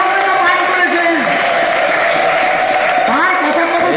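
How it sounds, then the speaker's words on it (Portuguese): Audience at a spiritual Harikatha gathering in Vrindavan, India claps continuously in a dense, even patter, with voices and a sung or chanted line running over the applause. "Batam palmas também"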